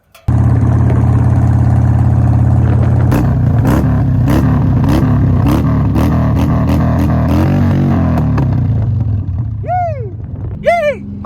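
A Harley-Davidson motorcycle engine rumbles at a steady, loud idle close by, then picks up a faster, pulsing rev for a few seconds before dropping back, and whoops are heard near the end.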